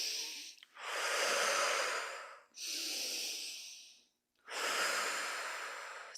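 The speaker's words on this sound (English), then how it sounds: "breathing in through the nose and letting that exhale just fall out of your mouth with a sigh" Slow, deliberate breathwork, heard alone and close: three long airy breaths through the nose and mouth, each one a drawn-out hiss separated by short silences, the exhales trailing off like sighs.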